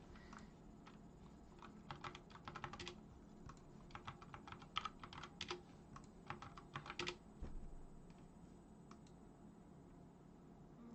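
Soft bursts of computer keyboard typing, quick uneven clusters of close clicks separated by pauses, faint against a low steady room hum.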